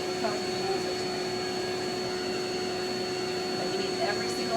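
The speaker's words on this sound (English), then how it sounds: "Blow dryer pushes it straight, comb pulls it straight." A blow dryer runs continuously while drying a dog's coat during grooming, a loud, steady whirring airflow with a constant tonal hum and no speech.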